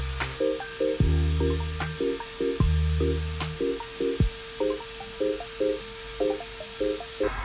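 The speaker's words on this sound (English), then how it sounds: "Now we're gonna go ahead and tap the hole" A hand tap cuts threads into a freshly drilled hole in a 2012 Chevy Cruze part to fit a helicoil, giving repeated rhythmic squeaking, grinding turns with short pauses between strokes, close and alone.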